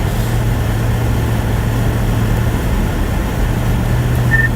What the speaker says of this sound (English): Oh, there is so much traffic today, Rob.